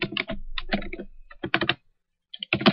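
Computer keyboard being typed on while writing code, with close, crisp clattering keystrokes in quick bursts separated by short pauses.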